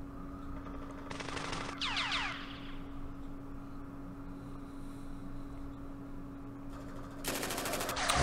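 Two short bursts of machine gun fire from the war game Campaign Series Middle East, a rapid rattle early on and another near the end, heard over a steady low hum.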